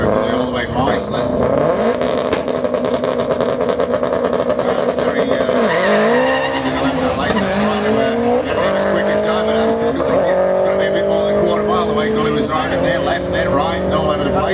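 The number 555 rally car screams at high revs, its engine pitch sweeping up and down as the tyres squeal through a skid, loud and close, with a commentator talking over it.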